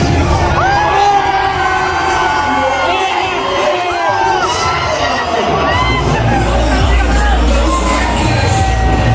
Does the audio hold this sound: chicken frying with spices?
no